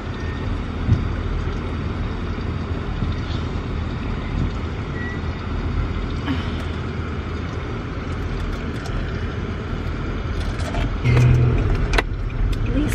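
Steady road rumble and engine drone from inside a moving car, continuous and fairly loud throughout, with a brief louder thump near the end.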